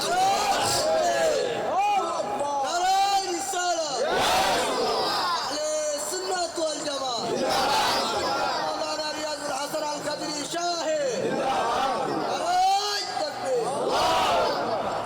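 A large crowd at a Bengali religious sermon gathering roars the Takbir chant back to the preacher, loud and sustained with repeated waves of massed voices filling the space.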